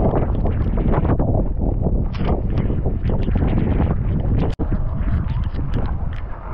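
Strong wind roars and buffets the microphone during a motorcycle ride on the highway near Agra, a dense, steady rushing blast filling the whole clip with one brief dropout.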